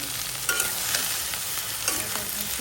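Okra hitting hot oil in a pan with a loud, steady sizzle that holds throughout, broken by a few sharper crackles and spatula scrapes, close by and without talk.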